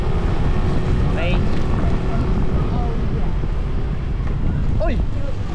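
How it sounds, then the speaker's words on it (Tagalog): Strong wind roars against the microphone on a drive along winding roads, a loud, steady low rumble filling the whole stretch with faint brief sounds poking above it. "Lakas talaga ng hangin."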